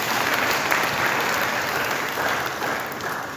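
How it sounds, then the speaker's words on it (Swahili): A church congregation applauding during a service, a dense, sustained wash of clapping from many hands that fills the room evenly from start to finish. "Makofi kwa kamati."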